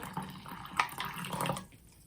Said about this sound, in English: I'm going to pour this, first of all, this first solution into a nice glass jug